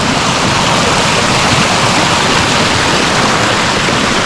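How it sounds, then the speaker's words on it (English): A waterfall on a winter hike across Gran Canaria gives a loud, steady, broadband rush of falling water, a constant roar filling the whole clip with no talk. "The waterfall up there."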